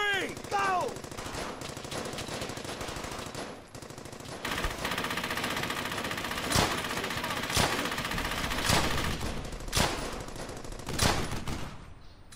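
Sustained automatic gunfire crackles through a WWII shooter game, Brothers in Arms: Hell's Highway, dense bursts and rapid shots layered into a continuous battle din, with a brief lull before the firing resumes.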